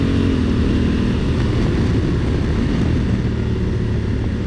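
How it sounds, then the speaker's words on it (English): A 2021 Honda Africa Twin adventure motorcycle's engine drones steadily and loudly while riding in S3 mode at high revs, a constant rumble with no clear separate shift pops and no talking. "Those downshifts are imperceivable almost, and then there's always a very welcoming pop when it changes down."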